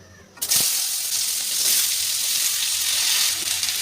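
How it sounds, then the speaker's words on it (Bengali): Vegetables, long beans and potato, sizzle hard in oil in a wok after a brief quiet start, a steady loud crackling hiss that carries on without break. "কড়াইতে যে তেল আছে ওই তেলে আমি এই সবজিগুলো ভেজে নেব।"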